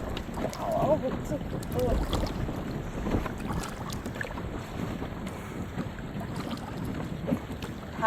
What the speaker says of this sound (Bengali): হাওয়াও হচ্ছে